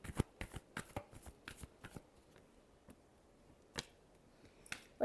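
Tarot cards being shuffled, a run of quick crisp riffling flicks in the first two seconds, then a few scattered single snaps, close and fairly quiet with no talk.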